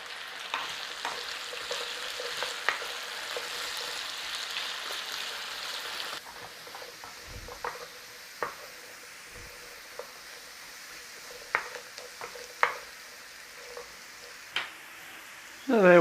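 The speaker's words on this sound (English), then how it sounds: "Now we are frying these potatoes for colour." Potatoes frying in oil in a pan, giving a steady soft sizzle that thins out after a few seconds, broken by occasional clinks and stirring taps.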